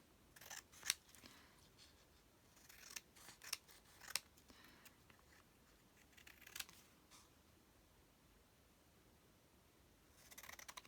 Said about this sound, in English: I'm going to be cutting that with my scissors